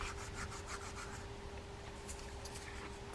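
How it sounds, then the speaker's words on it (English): Steel wool buffing rust off the spool of a South Bend 760 Perfecterino fishing reel, a steady close scratchy rubbing with faint rhythmic strokes and a constant low hum behind it. "I'm going to use a steel wool to buff that rust off here."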